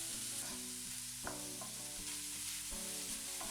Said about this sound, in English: coated tofu chunks that I pan fried in a bit of olive oil for about 8 minutes